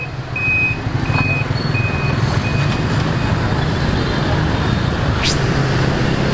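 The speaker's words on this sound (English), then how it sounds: "This traffic is just crazy." Busy street traffic in Hanoi forms a dense, constant roar of engines, with a run of repeated reversing beeps early on and a brief rising horn-like tone later.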